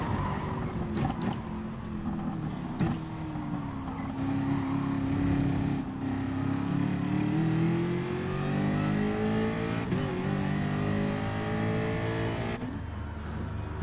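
Racing car engine in Gran Turismo Sport, running on fuel during a race, a steady loud drone that rises and falls in pitch through gear changes as the car drives around the track, with no talk.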